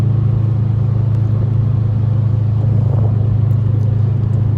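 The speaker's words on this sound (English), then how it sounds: "The exhaust sounds awesome." A 2005 Subaru Legacy GT with a turbocharged engine, heard at speed on a road from inside the car: a loud, steady low engine and exhaust drone with road rumble, and no voices.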